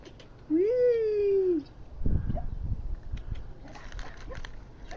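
A cat gives a single clear, drawn-out meow close by, followed by soft speech and faint background rustling.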